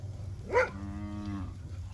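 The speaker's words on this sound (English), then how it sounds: "Look at all these cows." A single cow's moo rings out on a farm, a short rising call followed by a sustained low lowing that fades out, fairly close over steady rural background noise.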